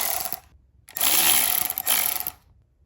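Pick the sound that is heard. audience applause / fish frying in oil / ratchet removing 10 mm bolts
ratchet removing 10 mm bolts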